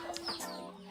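Country chickens, a mixed flock of about 150 roosters and hens in a fenced farm shed, give a few short, faint clucks in a brief moment with no talk.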